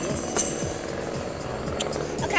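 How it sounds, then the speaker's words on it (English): A helicopter's rhythmic rotor thump beats steadily in the background under a low rumble, fairly faint and distant. "there's so much helicopters"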